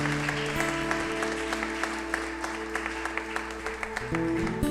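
Congregation applauding during a church worship service, a steady wash of clapping under sustained organ or keyboard tones, fairly close and continuous throughout.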